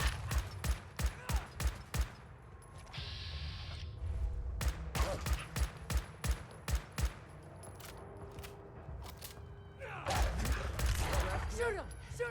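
Gunfire in the Fallout 4 video game: a fast run of sharp, loud shots over the first two seconds, then a steady rumbling stretch broken by further bursts of shots, with a voice shouting in the middle of the action.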